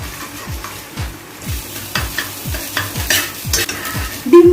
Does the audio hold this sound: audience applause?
no